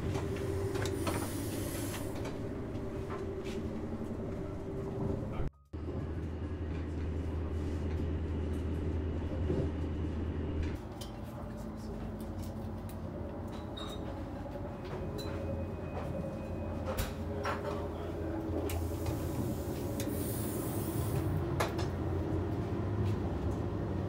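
Steady low rumble and hiss inside a moving Deutsche Bahn train, heard near the dining car, with brief clatters and one short dropout partway through; no one speaks.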